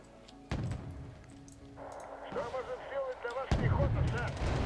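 Mortar fire in Wargame Red Dragon: booming thuds land near the start and again toward the end over a busy battle din, while a voice talks in between.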